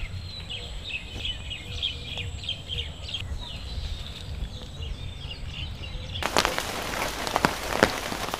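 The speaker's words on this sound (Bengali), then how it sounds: "দর্শক, বৃষ্টিতে তো পাইয়ে গেছে" Steady rain patters on surfaces near a kitchen on a rainy afternoon, with birds chirping faintly underneath, then heavier, sharper drops and splashes take over for the last couple of seconds.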